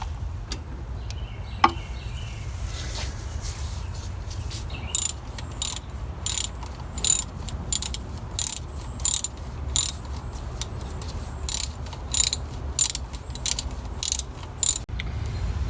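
A 3/8 ratchet working bolts on the water pump of a 1960s Ford Galaxie or Mercury Monterey, a close, steady series of short clicking bursts over a low background hum.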